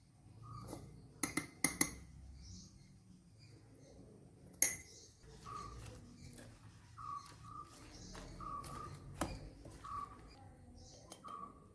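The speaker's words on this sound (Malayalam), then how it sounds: "ബ്രെഡ് ക്രഷ് ചെയ്തത് എല്ലാം ഇതിലേക്ക് ചേർത്തിട്ട് നന്നായിട്ടൊന്ന് മിക്സ് ചെയ്യാം" Crushed bread, egg and capsicum being mixed in a bowl, with several sharp clinks of a spoon against the dish and quieter scraping stirring in a quiet kitchen, no voices present.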